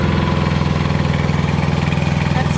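A tractor engine runs steadily with a King Kutter landscape rake attached, a loud, close, rhythmic low chug with a constant mechanical drone and no pauses.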